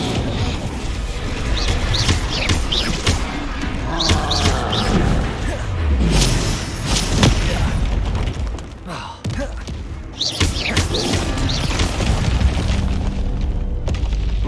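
An Incendio fire spell goes off in Hogwarts Legacy, with a dense, loud burst of whooshing flame and booming impacts running throughout, layered with game effects and music.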